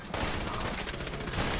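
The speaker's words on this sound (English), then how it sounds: "I heard that turret" An automated turret in Fallout 4 fires a steady rapid stream of gunshots, loud and close, rattling without pause for the whole brief burst.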